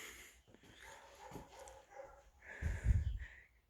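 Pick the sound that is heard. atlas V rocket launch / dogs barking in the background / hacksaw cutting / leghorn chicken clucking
dogs barking in the background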